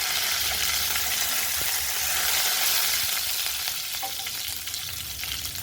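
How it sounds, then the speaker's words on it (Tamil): Curry leaves, mustard seeds, urad dal and dried red chillies crackle in hot oil, a dense, even sizzling hiss heard up close with a few faint stirring touches. "கருவேப்பிலை சேர்த்துக்கிறேங்க."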